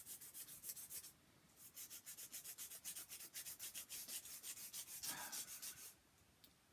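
A steel knife blade is hand sanded with 180 grit sandpaper in rhythmic back-and-forth strokes, a close, steady rasping that repeats evenly, briefly pauses, then resumes without any talk.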